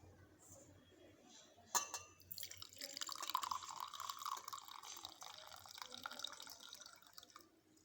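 Golden Abutilon indicum herbal tea is poured through a filter, starting with a faint trickle, then a sharp clink followed by a steady splashing drip and pour that stays soft and close.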